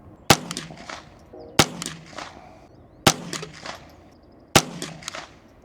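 A custom Ruger 10/22 rifle fires four sharp, close single shots at an even pace about one and a half seconds apart, each with a short ringing tail.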